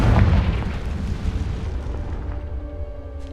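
A loud, booming explosion from the Confringo fire spell in a Harry Potter video game bursts at once and then rolls into a long, rumbling decay that fades slowly over a few seconds, with no talk over it.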